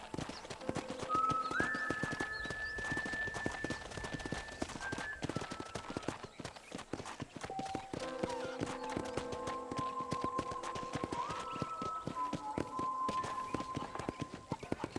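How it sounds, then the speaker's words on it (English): Horse hooves clip-clop steadily in Red Dead Redemption on PC, a continuous rhythmic beat of footfalls near and loud throughout, with faint tonal music and brief whinny-like sounds over it. "let's see if you can still ride a horse"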